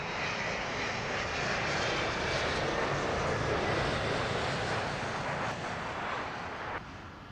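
An airliner roars past at London Heathrow Airport, a loud, steady broadband engine rush that holds for several seconds and eases slightly toward the end.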